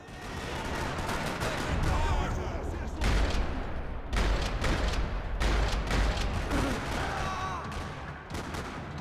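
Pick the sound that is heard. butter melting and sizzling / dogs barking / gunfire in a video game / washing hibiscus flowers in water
gunfire in a video game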